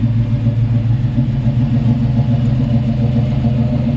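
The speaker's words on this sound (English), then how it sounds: "Really nice sounding exhaust." A 1959 Chevrolet Apache pickup idles on a cold Georgia day, its exhaust a loud, steady low rumble with an even, throbbing pulse and no voices.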